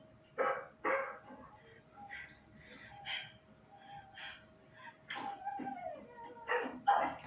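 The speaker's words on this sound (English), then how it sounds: "Shut the dog up." A dog barks and yips in several sharp bursts, loud and close, with a couple of softer whimpering yelps between them over a faint background hum.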